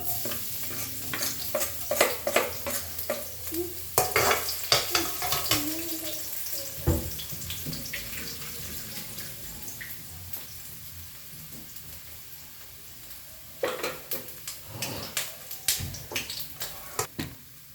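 Cooked rice stirred in a pan with repeated scraping and clattering strokes over a faint sizzle, busy at first, quieter through the middle, then brisk again near the end, with no talking.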